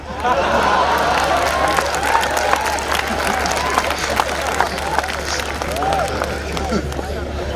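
Sustained applause from a poetry mushaira audience, dense and steady for several seconds, with a crowd murmur and scattered voices underneath.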